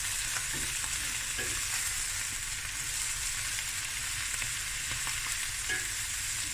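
Garlic sizzles steadily in a pan over medium heat, a constant close frying hiss with faint stirring scrapes now and then and no talking.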